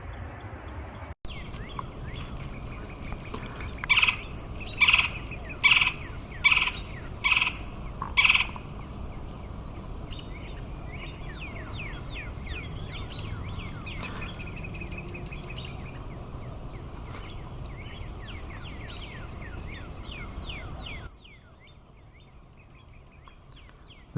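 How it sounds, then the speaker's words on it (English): A golden-fronted woodpecker in a canyon gives a run of loud, evenly spaced rattling calls near the start, followed by softer scattered chirps and calls from other birds over a quiet outdoor background. "This is a golden-fronted woodpecker, one of the resident species in and around Chaetura Canyon"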